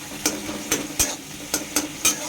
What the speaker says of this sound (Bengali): দিয়ে ভালো করে নাড়ব।